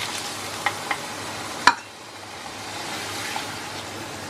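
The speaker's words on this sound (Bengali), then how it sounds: "এবার আমি একটু জল দিয়ে দিই।" Water is poured into a frying pan of soybean curry, giving a sharp splash followed by a steady, soft sizzle and hiss from the hot pan, with no voices.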